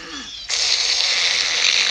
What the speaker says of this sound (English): Ten terrific snores!